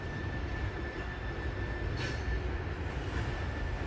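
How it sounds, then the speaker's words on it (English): A steady, heavy rumble of a train rolling past on a bridge overhead, continuous low-frequency roar with a faint high whine throughout, fairly distant. "There's a train up on top."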